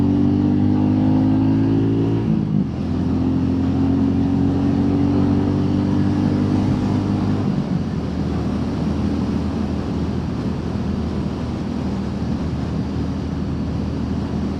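Royal Enfield Meteor 350 motorcycle accelerating on a test ride, a loud close engine note climbing through gears with a shift dip, then settling into steady cruising rumble under heavy wind rush.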